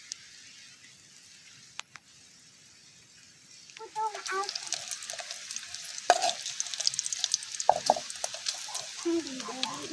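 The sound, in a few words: frying pounded chili and garlic in pork lard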